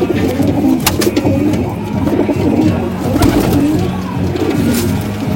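Punjabi Malwai pigeons coo steadily and close by, a continuous layered murmur of soft repeated calls with no talking.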